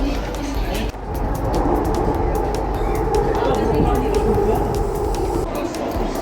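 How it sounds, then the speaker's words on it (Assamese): Inside a Delhi Metro carriage, a steady low rumble of the moving train fills the whole stretch, with a murmur of passengers' voices mixed in. "এতিয়া আমি মেট্ৰ'ৰ ভিতৰত বহি আছোঁ"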